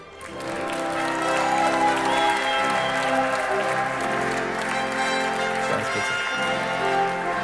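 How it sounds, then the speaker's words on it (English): A big arena crowd of handball fans applauds a player at the Women's EHF EURO 2024 final tournament draw, a dense steady roar of clapping that swells in and holds loud for several seconds. "Wow, this was a big applause."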